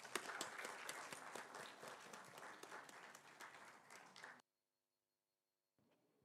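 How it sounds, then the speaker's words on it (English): Audience applause at a TEDx talk welcoming a speaker, loud, dense clapping for about four seconds that cuts off abruptly into near silence. "Please join me in welcoming Arjun Sharma with a round of applause"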